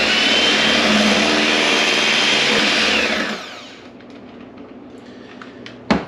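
An electric mixer whirs loudly and steadily as it blends cherry cream cheese pie filling, then cuts off after about three seconds. A faint clink follows in the quieter stretch.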